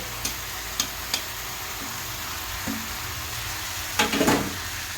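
Chopped tomatoes fry in a pan of dal with a steady, soft sizzle, broken by a few sharp spoon clicks against the pan and a brief stirring scrape near the end.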